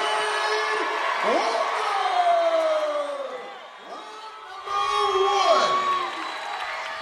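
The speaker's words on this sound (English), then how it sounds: "It's so loud from all the cheering" A roaring crowd cheers at a fight event as a fighter is introduced, with loud whoops, shouts and rising yells in waves, an announcer's amplified voice carrying over the din.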